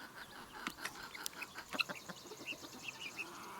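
A mother hen and her baby chicks make soft clucks and thin high peeps, faint and scattered over quiet outdoor background on a homestead.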